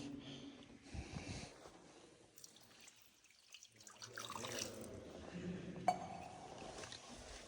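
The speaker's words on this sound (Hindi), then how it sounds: "ये देखो, ये शिवलिंग के नीचे से पानी निकल रहा है।" Water trickles from under a Shiva lingam into a stone pool in a tribal village in Arunachal Pradesh, a soft, faint, continuous splashing with a brief lull and a small clink midway.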